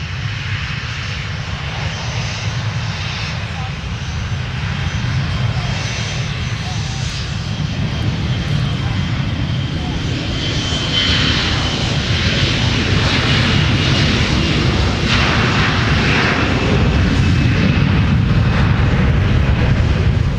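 An airliner taking off from runway 12 Right at Minneapolis–Saint Paul airport, a loud sustained jet engine roar that holds steady and swells slightly over the full stretch.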